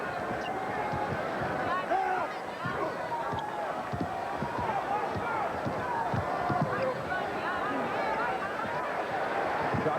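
An enthusiastic arena crowd at a Boston Celtics versus Chicago Bulls NBA game in 1992 roars steadily in the background, with sneaker squeaks and ball bounces, under continuous play-by-play commentary.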